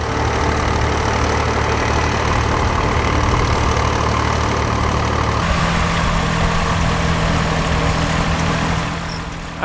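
A Massey Ferguson 135 tractor engine idles steadily and loudly close by, its low throb holding even throughout, with a slight shift in pitch partway through and no talking.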